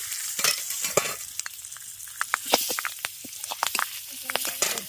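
Five-spice seeds, turmeric, and dried and green chillies fry in hot oil with a crackling sizzle and sharp pops and spatters, heard close, with a voice talking faintly in the background.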